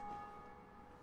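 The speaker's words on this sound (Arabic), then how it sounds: "واحد رن الجرس." A bell tolls in Dark Souls Remastered: one sustained metallic ring, steady and fairly faint, fading gently over a second with no voices.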